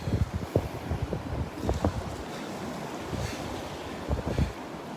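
Strong wind buffets the microphone on Delnor-Wiggins beach, gusty low rumbling bursts over a steady roar of surf.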